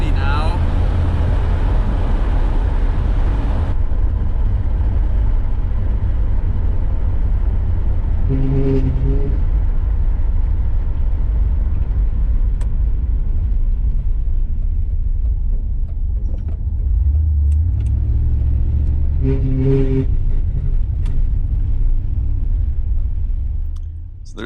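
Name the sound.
1985 Chevrolet Camaro IROC driving with rear rubbing sound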